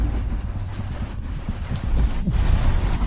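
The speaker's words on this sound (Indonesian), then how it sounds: "Di luar lagi hujan." Rain falls steadily outside, a dense even patter with low rumbling underneath, continuous and moderately loud with no voices.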